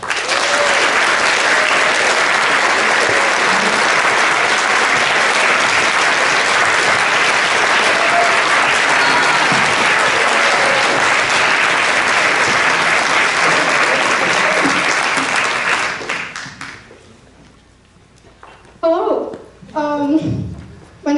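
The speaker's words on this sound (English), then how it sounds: "Let's show our appreciation with a round of applause to our guests tonight." An audience at a youth gun-reform panel event applauds loudly and continuously for about fifteen seconds, the clapping then fading out as a speaker begins talking.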